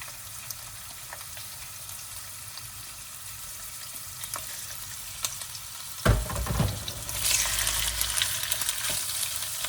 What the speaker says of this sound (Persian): داغ شد، من میگوار رو اضافه میکنم